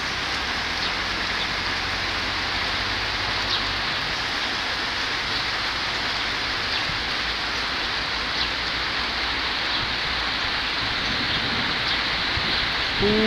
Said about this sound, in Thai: ฝนเริ่มลง